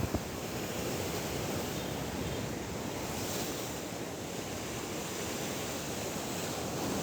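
Huge, rough sea waves crash continuously along the Alexandria shore, a dense, loud roar of surf with wind noise buffeting the microphone and no voices.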